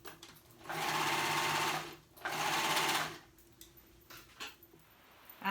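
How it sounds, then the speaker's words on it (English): A sewing machine stitches a kids' preppy polo shirt in two loud, steady bursts of rapid needle whirring, each about a second long, separated by a short pause and followed by quieter handling clicks. "And we're going to sew."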